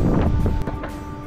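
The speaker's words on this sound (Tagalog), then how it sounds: "Malakas ang hangin" Loud, steady wind on Marinduque Island buffeting the microphone, a broad low rumble with gusty bursts, no voices.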